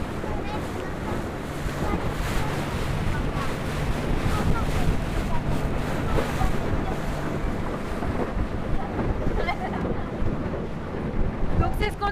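Strong wind buffets the microphone on a speeding boat at sea off Corsica, a continuous loud rushing roar with water noise beneath it, lasting the whole stretch.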